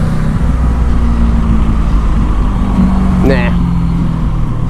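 Honda Magna motorcycle running, a steady low engine rumble close by with a person speaking briefly over it.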